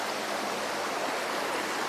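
River water flows with a steady, broad rushing hiss, even and continuous, moderately loud and without voices.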